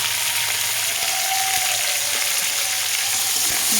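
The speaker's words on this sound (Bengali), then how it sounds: "এটাও আমি ভালোভাবে ভেজে নেব" Bitter gourd and pumpkin fry in a pan with salt and turmeric, giving a steady, close, loud sizzle with no voices.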